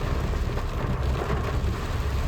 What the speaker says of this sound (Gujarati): મિત્રો તમે જો વરસાદ કેટલો ધોધમાર પડે છે ભાઈ, બહુ વરસાદ છે ભાઈ અટાણમાં